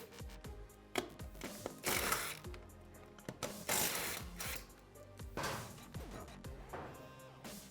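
Ratchet clicking and metallic handling come from taking a wheel off an ATV, with repeated bursts of tool ratcheting and clunks heard up close at moderate level.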